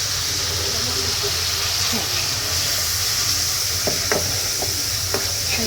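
Ground spices with ginger, garlic, turmeric and a splash of water fry in a pan for rohu fish curry. A constant loud sizzle runs throughout, with several sharp spoon scrapes and taps from stirring near the end.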